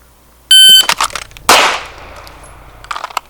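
A single loud handgun shot cracks out after a fast draw on a shooting range, preceded by a shot timer's sharp electronic start beep; the report rings briefly then decays into quiet.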